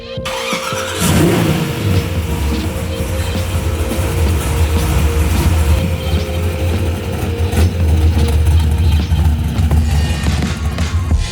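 A 355 ci Chevy Chevelle sleeper's V8 engine runs loud and close, starting up and then holding a deep, steady rumble with occasional revs throughout, no talking over it.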